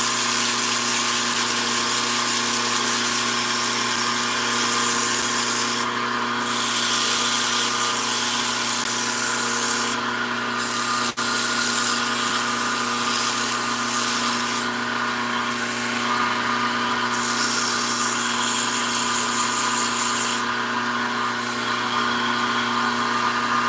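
Wood being sanded on a turning lathe with 150 grit sandpaper, a continuous steady whir and rubbing hiss throughout with slight periodic swells, close and even, no talking.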